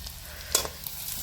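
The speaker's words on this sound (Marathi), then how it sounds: "तर लसण बघा छान तळला." Garlic frying in a pan for a ridge gourd vegetable dish gives a soft, steady sizzle, with one brief scrape of stirring in the middle. The sound is faint and short, with no talking.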